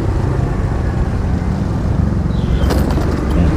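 Antique motorcycle with fresh repaint passing on a street, a continuous engine drone that swells slightly near the end amid road traffic noise, no talking.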